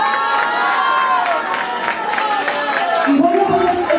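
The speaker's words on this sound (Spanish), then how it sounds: "un aplauso a Exces y a Cristian Chávez" An audience at a 2012 modeling agency event for new faces applauds, a dense, steady wash of clapping and cheering with crowd voices mixed in, continuous and fairly loud throughout.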